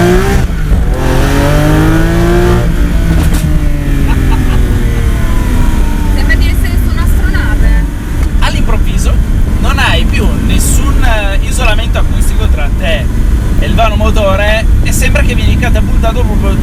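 Lamborghini Aventador S V12 revving hard from inside the cabin with the small rear window lowered, a loud, rising and falling engine roar with several throttle blips and a passenger talking over it.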